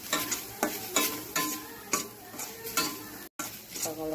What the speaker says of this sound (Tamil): இப்போ தேங்காய் ஒரே லேசாக சூடு பண்ணிவிட்டு